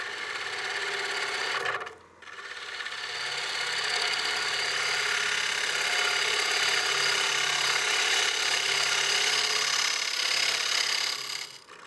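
A woodturning tool cuts a dovetail recess into a wooden platter spinning on a lathe, a loud continuous hiss and whir that cuts out briefly near the start, then runs steady and close.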